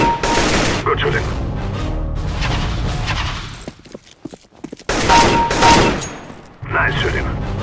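Gunfire in CS:GO, loud bursts of rapid shots in several volleys separated by brief lulls, with a voice talking between them.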